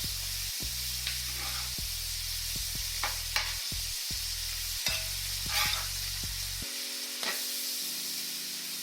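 Shrimp sizzle in a frying pan for a creamy pasta, a continuous close hiss broken by occasional light taps of the pieces being flipped, with a low steady hum underneath.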